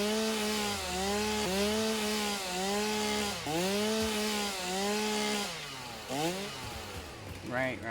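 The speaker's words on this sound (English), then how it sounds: "There's a chainsaw." A chainsaw in the survival game Fortuna cuts through wood in repeated revving bursts, its pitch rising and dipping with each pass, loud and close.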